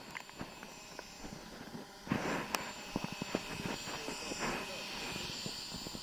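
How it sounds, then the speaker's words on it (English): Hubsan H216A X4 Desire Pro GPS drone landing close to a helipad, its rotor whine steady and moderately near, joined by thumps and rustles as it touches down. "just take a look where the drone actually lands when it returns to me."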